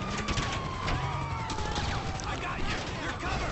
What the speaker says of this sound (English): We got a lot of gunfire here